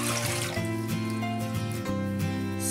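Two cups of water poured into a cooking pot for seafood soup, a steady trickling splash running throughout under tonal background music.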